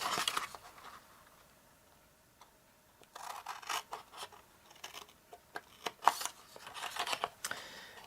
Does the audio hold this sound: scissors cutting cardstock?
yes